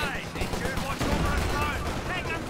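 Six-pounder anti-tank gun in Company of Heroes 2 fires amid continuous battlefield noise, with sharp blasts and crackling gunfire over a dense low rumble, partly under talk.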